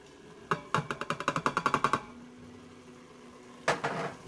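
Onions tossed into a pot of chili and stirred in, with a quick run of about a dozen sharp, rhythmic metallic clanks of a utensil against the pot, then a quiet pause and a final brief burst of scraping near the end.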